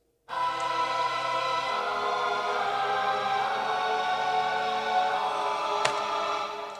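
Homemade Microtron sample instrument built from recordings of a singing voice, playing a sustained, harmonically rich sung-like tone that holds steadily for several seconds with shifting pitch layers, alone.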